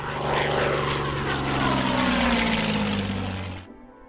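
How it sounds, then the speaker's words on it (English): Propeller fighter plane engine from the Hex of Steel war game drones loudly and steadily, a close, rough buzzing roar that holds for several seconds, then cuts off abruptly, leaving a faint low hum. "This is a fighter plane."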